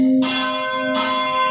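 A church bell rings twice, loud and close, each strike bright and metallic with a long shimmering ring that hangs in the air.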